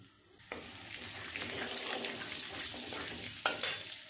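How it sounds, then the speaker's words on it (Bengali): Dried red chili, bay leaf and whole cumin hit hot oil with a steady close sizzle that stays even throughout, then a couple of sharp crackles and pops near the end, with no talking. "ফোড়নে দেবো একটা শুকনো লঙ্কা তেজপাতা হাফ চামচ গোটা জিরে"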